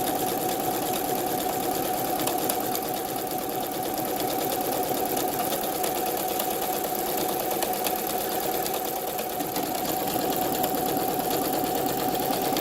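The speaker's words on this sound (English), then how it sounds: "See, I'm not touching the fabric, machine moving already by itself, which is amazing." A sewing machine fitted with a buttonhole attachment stitches a buttonhole, feeding the fabric by itself with a fast, steady mechanical whirring and rapid needle ticking, close and continuous with no talk.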